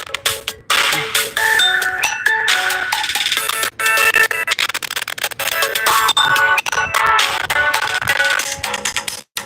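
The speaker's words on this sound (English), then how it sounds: "I ain't answering the phone call." Musical phone ringtone signalling an incoming call, a busy melodic tune with rhythmic pulses playing continuously and loudly for several seconds, with no talking over it.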